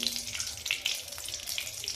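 Soft, crackling sizzle of oil heating in a kadhai on a gas stove, a faint continuous fizz with small irregular pops, quiet and close with no talking.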